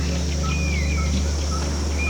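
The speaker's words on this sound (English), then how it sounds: "All I can hear is birds, birds, and birds." Birds sing at a river lodge on the Zambezi in the Caprivi, with a few thin whistled calls rising and falling over a steady low hum.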